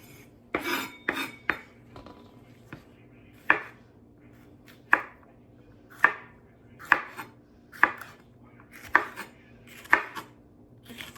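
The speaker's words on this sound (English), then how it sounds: "I slice them up to about maybe 1/4 of an inch in thickness." A knife slices jalapeño peppers into quarter-inch rounds on a cutting board, giving a dozen or so crisp, evenly spaced chops close up, with no talking.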